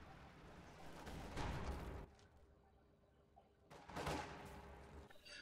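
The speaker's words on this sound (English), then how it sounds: "Machine gun taking shots on the sniper" Machine-gun fire at a sniper in the strategy game Company of Heroes 2: two bursts of distant, rattling gunfire about two seconds apart, quiet and thin over low battlefield ambience.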